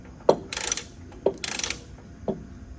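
Ratcheting chain binder being tightened on a load chain securing a Case 445 for hauling: three sharp metallic clicks about a second apart, each followed by a short rattling scrape, close and alone.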